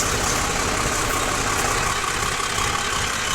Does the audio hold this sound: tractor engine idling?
yes